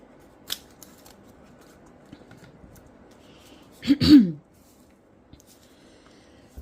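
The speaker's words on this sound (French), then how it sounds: "maintenant, on va séparer les cartes sans les abîmer" Stacked playing cards with gilded edges being pried apart, giving a faint tick early on, then a short, loud crisp rasp and snap near the end, with quiet room tone between.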